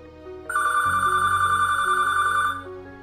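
A telephone bell rings once in a family home, a sustained bright trill lasting about two seconds over a low background hum, loud and close, with no voices.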